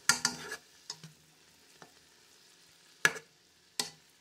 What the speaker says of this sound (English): Let's melt down the butter first.